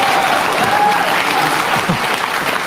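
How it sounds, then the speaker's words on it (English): Dense applause from a crowd at a live political event in Wyoming, steady and loud for nearly three seconds with no break in the clapping. "listen to the applause"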